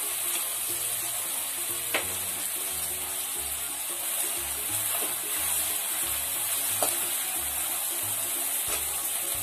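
Finely chopped onions sizzle and fry steadily in a pan with oil during a Maqlooba recipe, a continuous close crackling hiss with occasional stirring clinks, and no talking over it.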